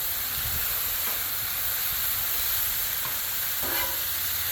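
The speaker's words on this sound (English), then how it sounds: "Then I'm gonna add me some soy sauce on top of it." Soy sauce sizzling on a hot Blackstone griddle: a loud, continuous hiss and crackle close by, with a few faint scrapes of a utensil stirring through it.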